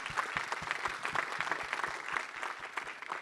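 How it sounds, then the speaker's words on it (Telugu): An audience claps at a Telugu film press meet, a steady round of dense applause from a crowd of many hands, close and even throughout with no talking over it. "I think first big round of applause for this"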